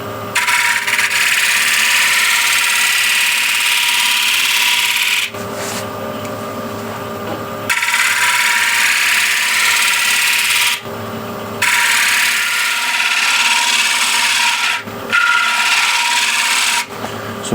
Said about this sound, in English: I don't force the scraper in, just let it do its thing.